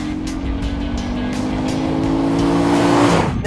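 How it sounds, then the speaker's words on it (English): Lexus RC F V8 exhaust in sport mode, a loud sustained engine note that rises steadily with a downshift blip near the end, close and with no talk. "flick it over into Sport or Sport Plus, even better, manual mode, it'll blitz gears back down and start to give you some more enjoyable sound"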